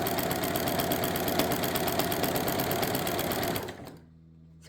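A Janome sewing machine stitches a quilt seam with a fast, even mechanical whirr and rapid needle ticking for several seconds before stopping abruptly into near silence.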